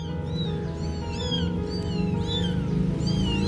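A mother cat meows repeatedly and insistently, about five or six rising cries close by, over a steady low background hum.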